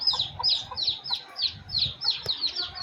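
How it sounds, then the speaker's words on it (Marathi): A hen clucks with her chicks in a village yard, giving a quick run of short, repeated chirpy clucks with soft low rustling beneath. "आई कोंबडीच्या मागे धावणारी ही गोंडस पिल्लं मन जिंकून घेतात।"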